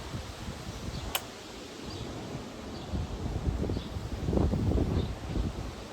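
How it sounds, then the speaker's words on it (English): Steady gusty wind ahead of a storm roars and buffets the microphone, swelling louder toward the end, with faint rustling underneath. "Wow, it's getting really windy. Must be a storm blowing in."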